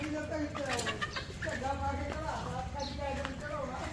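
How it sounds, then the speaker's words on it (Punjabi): Chickens and roosters kept in a pen make several nearby bird calls and clucks, mixed with faint rustling and a person talking at low level. "ਹਾਂਜੀ ਇਹ ਆਪਾਂ ਕੁੱਕੜ ਰੱਖੇ ਹੋਏ ਆ"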